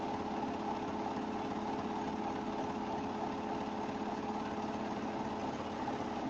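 A Triumph serger runs steadily while sewing a narrow rolled hem, giving a continuous, even mechanical hum with no pauses throughout.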